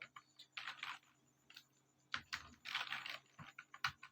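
A computer keyboard clatters in quiet, close bursts of typing while code is written, with short key runs broken by pauses and a faint steady hum underneath.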